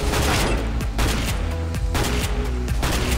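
Gunfire in CS:GO, with a Mag 7 shotgun among the weapons: a dense run of loud, rapid shots layered close together over a steady game background, with no talk.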